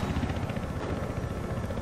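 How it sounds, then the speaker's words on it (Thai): A transport helicopter in the Battlefield Hardline Hotwire mode thrums steadily and loudly at close range, a dense low rotor churn filling the whole stretch without pause or talk. "อันนี้เป็นฮอขนส่งไม่ใช่ฮอจู่โจม"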